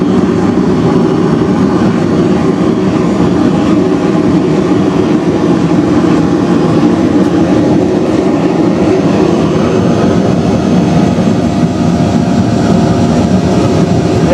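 A propane- and air-fired furnace for melting bronze, with the air turned down, burns with a loud, steady low roar that holds unbroken throughout.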